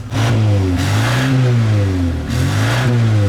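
An old, smoking Moskvich car engine revs up and down repeatedly, rising and falling in pitch over a rough idle, close and loud with no talking.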